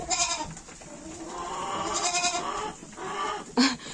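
Goats bleat outside on a frosty farm, several overlapping wavering calls near and fairly loud, with a louder short bleat toward the end.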